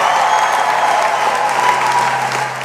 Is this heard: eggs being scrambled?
no